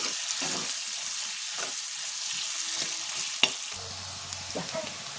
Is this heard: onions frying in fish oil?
yes